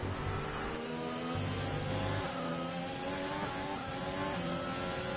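Several racing cars in an F1 video game at the Russian GP scream past in an overtake, engines revving loud and steady with layered whining tones shifting in pitch throughout.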